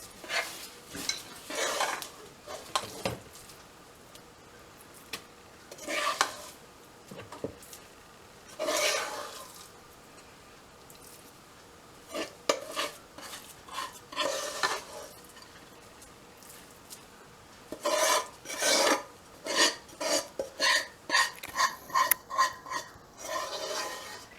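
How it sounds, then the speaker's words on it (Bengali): A spoon works egg and sugar together with a milk and butter mixture in a bowl, giving repeated scraping, rasping strokes in bursts that quicken toward the end, close and fairly quiet with no talk. "এবং এটাকে আবার ডিমের সাথে খুব ভালোভাবে মিক্স করতে হবে"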